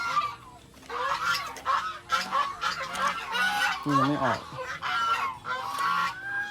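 Repeated goose honks from nearby birds on a farm, loud and overlapping, with a person speaking briefly among them.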